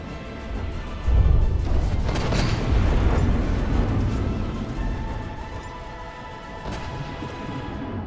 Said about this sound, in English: Keeping up a constant barrage against the Polar Star.